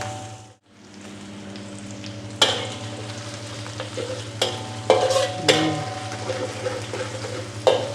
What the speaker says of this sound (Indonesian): Kita masak sampai dia kecoklatan lah, gold lah, jangan coklat.